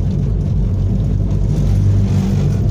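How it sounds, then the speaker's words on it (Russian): A car rattles and rumbles steadily over a washboard-rutted dirt road near the Sea of Azov, with a loud, continuous low droning vibration and no talk. "И начинает вот так вот дребезжать машина."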